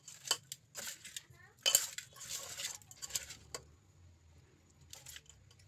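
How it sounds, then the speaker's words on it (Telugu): Fish pieces being rubbed with turmeric, salt and lemon in a metal dish, with repeated close clinks and scraping of utensils against the bowl in short irregular bursts. "బాగా ఈ పసుపు, సాల్ట్, ఇంకా నిమ్మకాయ అనేది పీసెస్కి పట్టేలా చేస్తున్నాను"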